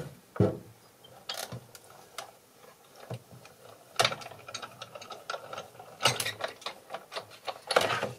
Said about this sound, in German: So, schiebe ich das an durch die Maschine.